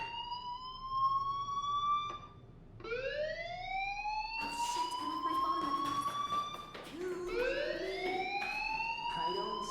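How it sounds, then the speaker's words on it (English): A school fire alarm rings in the Life is Strange video game, repeated rising electronic whoops sweeping upward, overlapping one another, loud and continuous, with muffled background noise. "Hey, do you hear that fire alarm?"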